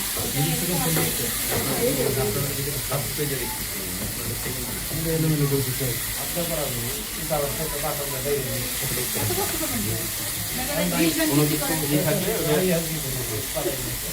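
Chicken frying in a frying pan for a grilled chicken sandwich gives a steady sizzle and hiss throughout, heard beneath continuous talking.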